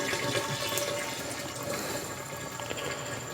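Sweet liquid draining off a bourbon mash during sparging, a continuous trickling, gushing flow of water heard close and fairly quiet, steady with small splashy fluctuations throughout.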